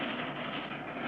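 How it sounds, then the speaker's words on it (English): A cartoon train rolls onto a high bridge with a continuous, dense rumble that stays loud and steady throughout. "As the little train starts across the bridge, Clutch and Company blown to bits."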